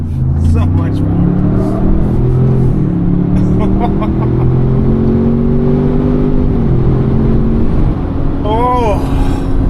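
A Ford Expedition Tremor with a 440-horsepower engine accelerates on a drive, its close engine note climbing steadily in pitch through the pull, then dropping back before rising briefly again.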